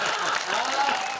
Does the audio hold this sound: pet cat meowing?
no